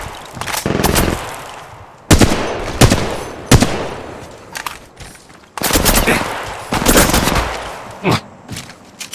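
Bursts of automatic gunfire from the mobile shooter Apex Legends Mobile come in loud, rapid volleys separated by short pauses, with scattered single shots between them.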